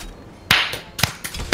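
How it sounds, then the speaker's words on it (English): Players in CS:GO trade sharp claps: a handful of crisp, separate slaps, fairly close and loud, with short pauses between them. "Why are we clapping at each other?"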